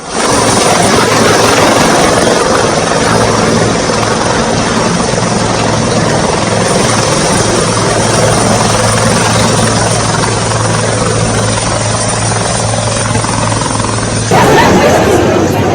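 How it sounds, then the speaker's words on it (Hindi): Helicopter landing at a circuit house helipad in Gorakhpur, a loud, steady rotor and turbine roar running almost the whole time with a faint crowd murmur beneath, then cutting off abruptly near the end. "योगी का हेलीकॉप्टर गोरखपुर में हेलीपैड पर सर्किट हाउस में लैंड हुआ"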